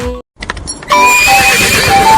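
A horse gives a loud whinny in a Hindi children's nursery rhyme, followed by a short pause and clip-clopping hooves before upbeat music swells in, no one talking.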